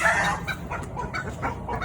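Chickens cluck in a short run of soft, scattered calls against a steady outdoor background hiss, with no voices present.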